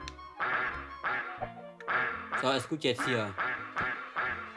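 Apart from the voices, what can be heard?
ducks quacking in SNES video game Pinocchio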